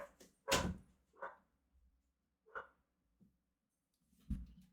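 A dog gives a few short, scattered barks and yelps with quiet gaps between them, faint and somewhat distant, along with a soft bump like a door.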